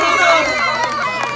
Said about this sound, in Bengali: জোরদার তালিয়া কাকিমার জন্য